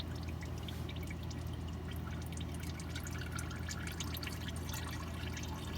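Motor oil drips and trickles from the oil filter of a 2019-2021 Acura RDX during an oil change, a steady, faint, continuous patter with no pauses.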